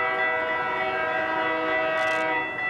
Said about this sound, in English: You thought the train horns along the G line were loud?